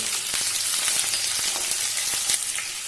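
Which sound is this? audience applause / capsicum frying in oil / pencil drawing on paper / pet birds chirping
capsicum frying in oil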